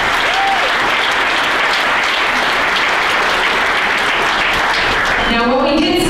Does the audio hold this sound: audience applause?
yes